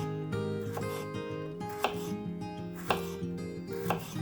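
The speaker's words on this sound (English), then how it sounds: "Chop half a chili pepper." Half a chili pepper is chopped with a knife on a cutting board, a handful of crisp, separate taps at an uneven pace over a low kitchen hum.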